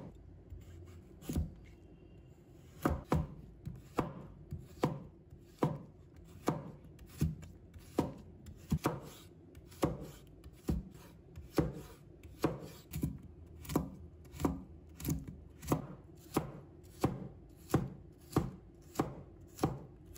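A knife chops a carrot into small dice on a cutting board, a long series of sharp, evenly spaced knocks close by, getting faster toward the end, with no voices.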